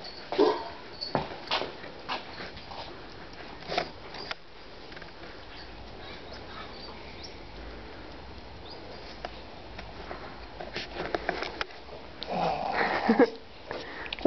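A puppy sniffs close by in short snuffling bursts, with a few faint whimpers mixed in over a quiet background and no talking.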